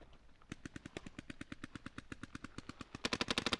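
Paintball markers fire rapid bursts during a game at an outdoor field, steady rhythmic pops close by at about eight shots a second, growing louder and faster near the end, with no talking.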